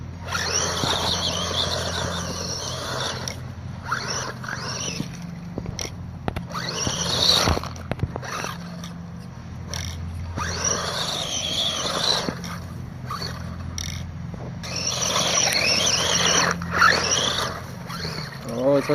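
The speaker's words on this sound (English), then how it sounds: "Final burnout attempt." A WLtoys 12428 RC car with a broken axle spins its tires in a burnout, giving a scraping, squealing whine that rises and falls in bursts over a steady background hum, with brief pauses between throttle blips.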